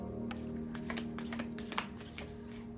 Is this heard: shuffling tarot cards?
yes